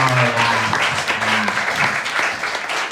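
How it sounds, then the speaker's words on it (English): Comedy show audience gives a steady round of applause, dense clapping filling the room throughout, with a few voices faintly underneath. "I want you to give one more big round of applause"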